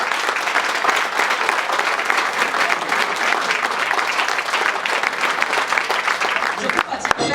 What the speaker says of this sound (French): je vous invite une fois de plus à applaudir